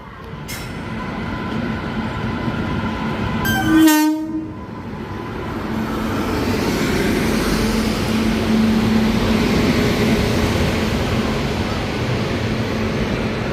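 Ajmer Express passenger train rolling past with a loud blast of its horn partway through, followed by a steady, continuous rumble of railcars on the track.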